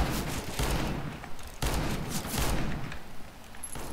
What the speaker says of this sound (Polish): Gdzieś tutaj strzały.